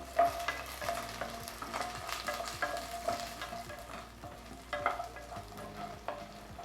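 Curry leaves fry in a pan for a raw mango curry, giving a soft, steady sizzle with repeated scraping strokes of a stirring spoon, fairly quiet and close, with no talking.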